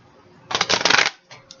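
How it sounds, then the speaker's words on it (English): A deck of oracle cards is shuffled in one quick, crisp riffle lasting about half a second. A softer, brief rustle of the cards follows, with no talking over it. "I'm going to shuffle these again."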